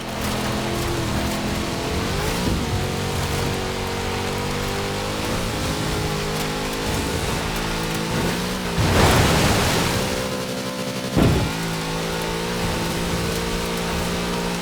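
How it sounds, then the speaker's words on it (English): A big Chevrolet engine roars steadily in Forza Horizon 4, a constant loud drone with shifting pitch and a hiss of road and wind noise, briefly surging near the end. "Such power in the big Chevrolet engine."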